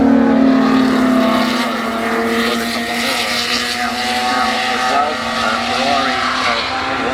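Race cars heading out at the Goodwood Festival of Speed, a loud engine roar with shifting pitches as the cars pass, under a commentator's voice.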